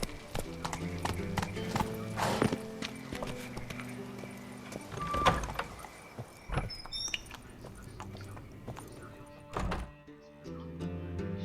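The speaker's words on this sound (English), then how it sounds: "Whoa there, Roach" Hooves clip-clop from a horse in The Witcher 3 game, with thunks and a whinny, loud and close over an uneven rhythm. Speech runs under it.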